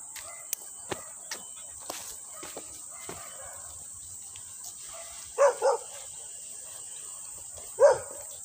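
A dog gives three short barks, two close together and one a couple of seconds later, heard at moderate distance over a constant high insect drone and a few faint ticks.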